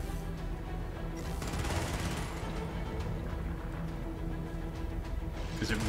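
Gunfire in Helldivers, a dense, continuous wash of shots and game noise that stays loud throughout, with bursts building toward the middle and a faint voice beneath.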